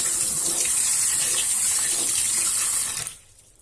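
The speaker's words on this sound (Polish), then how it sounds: "Więc nalewam wodę." Steady rush of water pouring from a tap for about three seconds, then cutting off abruptly, leaving near silence.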